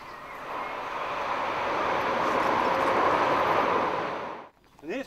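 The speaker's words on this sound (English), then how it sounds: "And here's the train coming, Dave." A train approaches along the line, a broad rumbling roar swelling over several seconds, then cutting off abruptly near the end as a brief voice follows.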